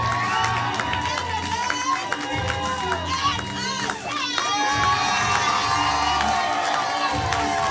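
Crowd at a live main-event stage show cheers and shouts loudly, with some applause, while an announcer's voice counts over the din throughout; whoops and high shouts rise and fall, near and dense.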